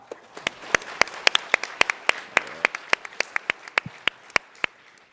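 Sparse, sharp claps from a small audience follow a startup pitch at a tech competition, popping out individually at an uneven rhythm over a soft room background.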